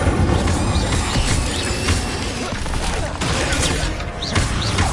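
Incendio fire spell cast in the Hogwarts Legacy video game during a fight with spiders, a dense roaring burst of fire and crackling impacts layered over continuous battle noise and other spell effects.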